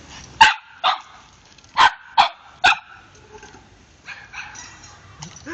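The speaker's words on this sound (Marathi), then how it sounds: "कुत्र्यानं त्याची घरात एंट्री केली" A dog barks inside a house: about five sharp, close barks in quick succession, followed by softer, quieter yelps and whines.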